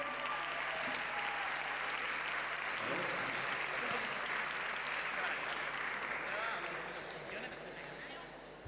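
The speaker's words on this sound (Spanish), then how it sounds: "Fuerte aplauso para Zoe." Audience at a Mangamore 2023 karaoke contest applauds Zoe as she takes the stage, sustained crowd clapping and cheering that tapers off toward the end.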